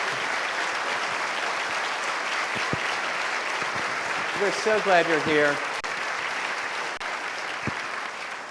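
An opera conference audience at an opening session gives sustained applause, an even crowd clapping throughout, with a voice speaking briefly over it midway.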